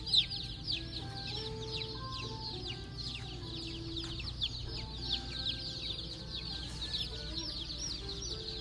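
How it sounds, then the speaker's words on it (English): Baby chicks cheep constantly in a farm store display under a heat lamp, a dense chorus of high peeping over a low electrical hum, with brief tonal beeps in the background. "These look like little chickens."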